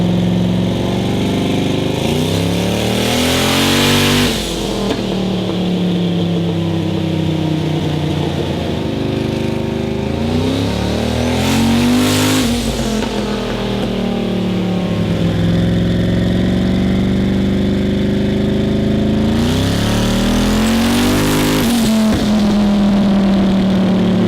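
A turbocharged, cammed fourth-generation Camaro with an S475 turbo and LJMS Stage 2 setup roars loudly through repeated dyno pulls, the engine note climbing steadily in each of about three long wide-open runs with brief drops between.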